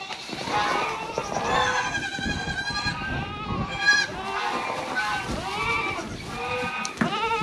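Goats bleat repeatedly and loudly in a pen after a snow storm, several overlapping calls rising and falling close by, with rustling movement underneath.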